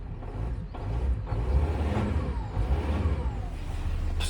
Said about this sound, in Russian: Давай попробуем, как вы любите, погазовать